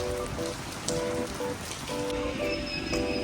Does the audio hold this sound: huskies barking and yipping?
no